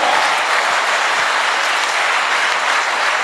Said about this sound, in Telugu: సో ఈరోజు ఇలాంటి ఒక అద్భుతమైనటువంటి ఈవెంట్కి వచ్చినటువంటి మీ అందరికి ఒకసారి జోరుగా క్లాప్స్ ఇద్దామా?